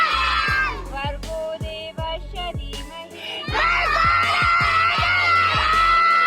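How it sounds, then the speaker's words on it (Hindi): Someone loudly shouts a prayer in rhythmic, chant-like bursts at a school assembly, backed by an energetic, crowd-like din. "ये प्रेयर इतना चीख चीख कर पढ़ रहा है"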